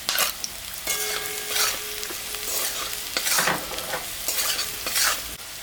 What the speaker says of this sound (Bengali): আলু আর পেঁয়াজ ভাজা হয়ে গেছে, এখন আমি লবণ আর হলুদ দিয়ে দিলাম।